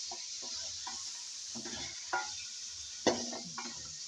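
Ginger, garlic and green chili paste frying with chicken for korma, a soft steady sizzle with repeated spoon stirring scrapes and occasional clinks against the pot, close and fairly quiet.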